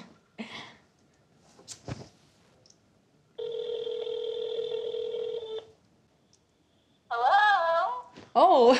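A phone on speakerphone places a call: brief tones, then a steady electronic ringing tone lasting about two seconds, followed by a pause and close voices talking.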